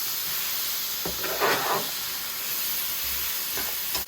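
Garlic frying in a pan gives a steady, close sizzle and hiss throughout, with a few brief louder crackling swells and no talk.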